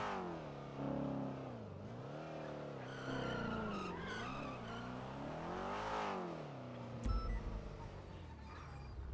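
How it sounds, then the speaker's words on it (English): A Dodge Charger in the NoPixel GTA video game squeals its tires through corners, with a revving engine rising and falling in pitch beneath long, loud skidding screeches and a sharp bump near the end. "But that's how it is driving a Charger. You can just see it going and squealing every time you make a corner."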